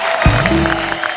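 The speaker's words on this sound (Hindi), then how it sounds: "भाई 2000 तालियां हो जाए हमारे भाई के लिए।" A burst of audience applause for a comedian on a television comedy show, a short, loud wash of clapping with a brief voice cutting through at the start.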